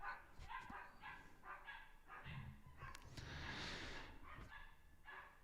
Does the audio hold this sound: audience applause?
no